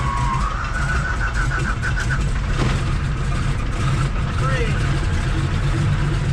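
Steady drone of a Ford Trimotor's radial engines running, with a rising whine and a rhythmic warble partway through, loud and continuous under speech.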